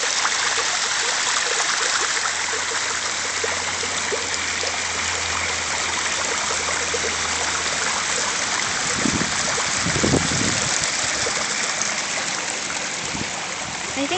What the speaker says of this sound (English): Oh, that's where the water is coming from.